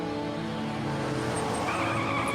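A car skids in a TV drama, its tyres squealing in one loud, sustained, grinding screech over a steady engine roar, close and unbroken for the whole moment.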